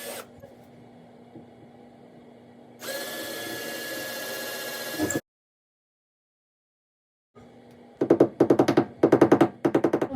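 Power drill driving screws into a wall while putting up a nursery shelf, with a long steady whir, a pause, then several short rapid bursts of drilling close by.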